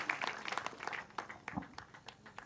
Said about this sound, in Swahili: Patia Yesu makofi mazuri